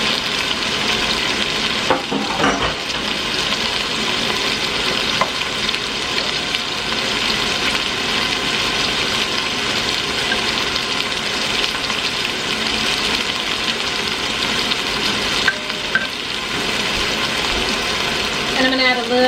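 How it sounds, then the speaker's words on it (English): Broth is poured into a pot of homemade soup in a home kitchen, giving a continuous steady liquid rush alongside nearby frying sizzle, close and even in level throughout. "I'm just going to add my broth."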